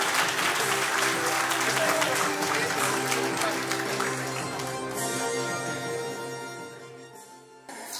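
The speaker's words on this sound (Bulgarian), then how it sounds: "още веднъж аплодисменти за най-добрите категория сватбена торта" A crowd claps for the wedding cake category winners at a cake art awards ceremony, dense sustained applause with music playing underneath, gradually tapering in the second half.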